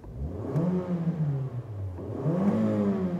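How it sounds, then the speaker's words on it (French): A 2018 Toyota C-HR with a 2-litre engine revving, its note climbing and falling in two rising sweeps, close and fairly loud, alone without talk. "Allons-y avec un petit démarrage moteur."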